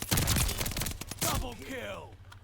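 Rapid automatic gunfire from the Call of Duty Vanguard video game rattles in loud bursts, with someone speaking over part of it.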